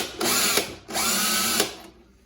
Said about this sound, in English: and drill a countersink